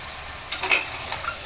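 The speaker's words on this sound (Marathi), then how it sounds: "आता आपण चांगलं मिक्स करून घेऊ." Chicken stirred in a hot pressure cooker with three tablespoons of oil over a low flame for biryani, giving a few soft scraping stirs and a faint sizzle, close and quiet, with no talk.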